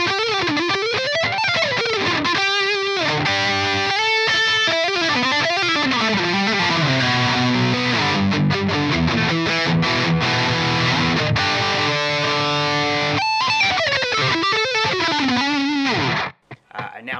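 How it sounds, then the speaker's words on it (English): A Charvel Angel Vivaldi signature electric guitar played through its neck humbucker with heavy distortion, fast sweeping melodic runs and chords ringing loud and continuous before cutting off abruptly near the end. "And then the fifth position is just the neck humbucker."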